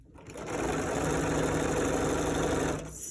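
A sewing machine runs steadily for nearly three seconds, stitching a fabric hem with a continuous close-up whir that starts and stops abruptly.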